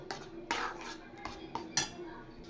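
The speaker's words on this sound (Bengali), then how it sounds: "এবার জলটা যতক্ষণ পর্যন্ত না শুকোবে, ততক্ষণ পর্যন্ত আমি কম আঁচে নেড়ে যাব।" Fish curry (shing fish) being stirred in a pan over low heat: a utensil scrapes and clinks against the pan in irregular strokes, close and fairly quiet, with no talk.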